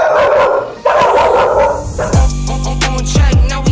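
Doodle puppies barking and yipping during training, sharp close barks over a loud background, with music entering partway and continuing under the dogs.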